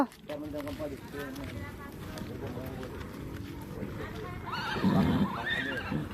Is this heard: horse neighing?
yes